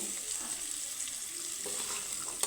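Jackfruit seed and gram flour fritters fry in oil, giving a soft, even sizzle that holds steady throughout and ends with a single small click, close by with no voices.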